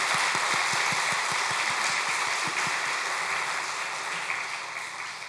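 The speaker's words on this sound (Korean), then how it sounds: "같이 박수로 응원했으면 좋겠어요." A church congregation at a Wednesday worship service claps together in encouragement, a broad wash of applause with rhythmic thumps in the first half that gradually fades.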